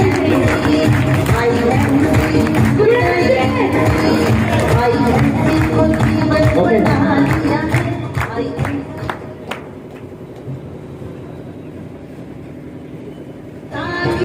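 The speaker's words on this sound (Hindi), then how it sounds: "एमडी के लिए जोरदार ताली।" Strong clapping from a crowd rings out for a company's MD at a business celebration in a marriage hall, loud and dense at first, then thinning to scattered claps that fade out.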